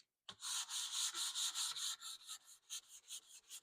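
Sandpaper rubbing along a wooden Remington 341 Sportmaster rifle stock in steady back-and-forth strokes, close and clear, about a dozen rhythmic passes that grow shorter and choppier toward the end, with no voices.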